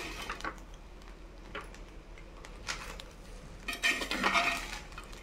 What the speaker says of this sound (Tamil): இது கூட பெப்பர் பொடியை மேலாப்பில் தூவி நல்லா கிளறி விட்டுக்கலாம்